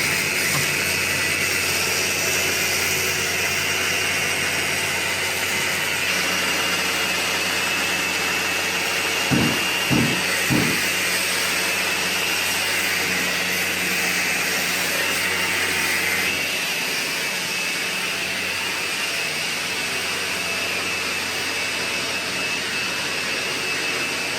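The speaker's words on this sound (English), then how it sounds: "he's sanding the floor in the library" A floor sander on a wooden library floor: a loud, continuous whirring machine roar fills the space without pause, with a few brief thumps partway through.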